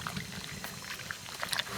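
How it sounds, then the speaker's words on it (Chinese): Noodles boiling in a pot of water, a soft bubbling, churning burble that stays faint and steady with no voices. "面下锅"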